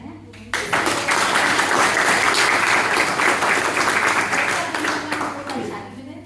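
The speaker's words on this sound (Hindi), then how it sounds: "हम उन सब के लिए आप लोग से जोरदार ताली चाहते हैं" Loud, sustained applause from an audience in a meeting hall, starting abruptly and holding steady for several seconds before slowly thinning out toward the end.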